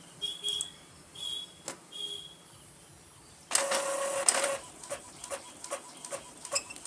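Epson L3110 inkjet printer printing a greeting card in colour, giving short mechanical whirring and buzzing bursts, a longer louder printing pass partway through, then scattered clicks and ticks, close and without talk.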